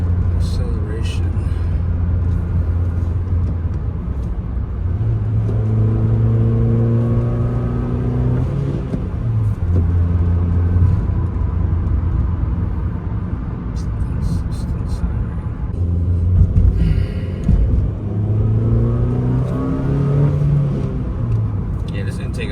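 A 2007–2008 Honda Fit Sport (GD3) fitted with an Injen cold air intake accelerates hard, its engine note climbing through rising revs in two distinct pulls, loud and close, with a voice speaking over part of it.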